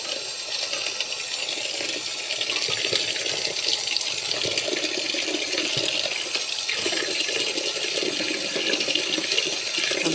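Tap water runs steadily into a basin to soak freshly picked produce, a continuous bright splashing hiss lasting throughout, close and moderately loud with no talking.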